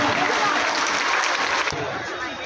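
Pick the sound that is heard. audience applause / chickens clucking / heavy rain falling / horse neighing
audience applause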